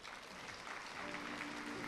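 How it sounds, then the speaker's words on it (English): Audience applause at a 2019 King County behavioral health legislative forum, a dense, even wash of clapping from a crowd throughout, somewhat distant and fairly soft. "Let's give them a round of applause."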